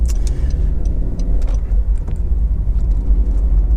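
A Honda CR-Z 1.5 hybrid sports coupe runs with a steady, heavy low rumble, loud and close, with no talk over it.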